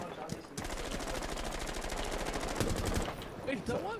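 Rapid automatic gunfire from the Rainbow Six Siege video game rattles in a steady, fast burst lasting about two and a half seconds, loud and close, with brief scattered shots before and after.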